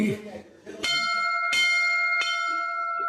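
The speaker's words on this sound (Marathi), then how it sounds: "अत्यंत प्रसन्न अशी ही आवाज देणारी घंटा आहे" A temple bell at a Hanuman temple is struck three times in steady succession, each clear metallic clang ringing on with a long shimmering sustain; a voice is briefly heard before the first strike.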